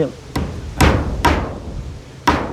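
Four sharp hammer blows strike at an uneven pace, each ringing briefly, close and loud.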